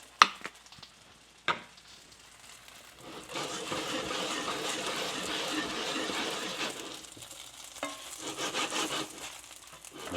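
Dumplings frying in a little oil in a HexClad pan: a couple of sharp clacks of placement at first, then a soft, steady sizzle that swells and lingers with faint scraping touches.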